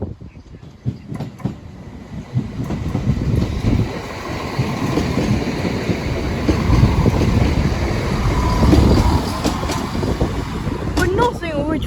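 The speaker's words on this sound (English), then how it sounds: "Oh, the train's approaching" A train rumbles past the Sleaford West level crossing, its noise building to a loud, close roar, while people nearby talk over it.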